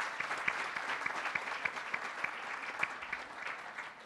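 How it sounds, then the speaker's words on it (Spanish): Steady audience clapping at a press panel on Venezuela, a brisk, moderately loud patter with distinct individual claps standing out, heard alone without talk. "Un aplauso fuerte, por favor"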